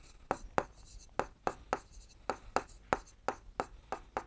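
Writing on paper while working a Class 7 maths area problem, a quick rhythmic series of sharp pen or chalk strokes about three per second, close and crisp with quiet gaps between.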